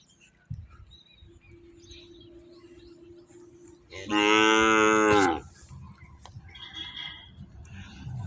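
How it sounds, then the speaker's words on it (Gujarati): A single loud, drawn-out cow moo lasting over a second rises in the middle, with quieter farmyard background noise before and after. "બધી ગાયો આવે છે હવે બાંધી દઈએ ફટાફટ"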